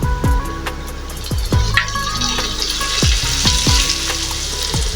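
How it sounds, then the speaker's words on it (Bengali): Potato, tomato and capsicum fried in oil are stirred in a pan, giving a steady close sizzle with repeated scrapes and clinks of the spoon against the pan. "সবগুলোকে আমি এবার ভালো করে নাড়াচাড়া করে নেব আলু টমেটোর ও ক্যাপসিকাম আমার তেলের মধ্যে নাড়াচাড়া হয়ে গেছে"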